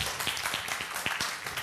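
A conference audience gives a welcoming round of applause for a speaker on open-source hardware in Latin America, with scattered, distinct claps from a modest crowd, fairly quiet and uneven across a brief stretch.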